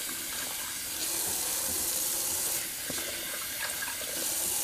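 Hot water runs steadily from a bathroom tap into a sink, a continuous close splashing hiss with slight shifts in flow and no voices.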